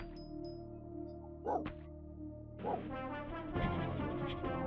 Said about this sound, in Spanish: Grande el perrito.